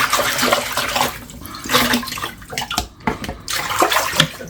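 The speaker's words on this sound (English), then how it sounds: "we wash our small but mighty nutritious fresh mint leaves" Fresh mint leaves being washed in water, a steady sloshing and splashing that runs continuously throughout with brief dips, close and fairly loud, no voices.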